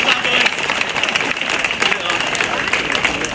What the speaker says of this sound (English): Big round of applause there for Lewis Moore.